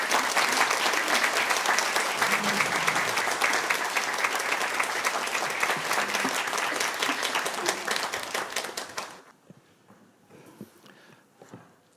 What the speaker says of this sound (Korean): 앞에 나오실 때 여러분들 큰 환영의 박수 부탁드립니다